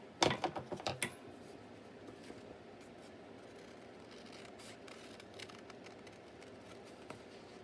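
Scissors snipping through paper for a junk journal pocket, a quick run of about six close crisp cuts at the start, then quiet with faint scattered rustles.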